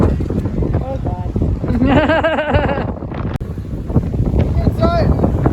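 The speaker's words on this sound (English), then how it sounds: "It's really windy." Strong outdoor wind buffets the microphone with a constant roar and gusts during a balsa wood glider flight test, while people talk and exclaim over the noise.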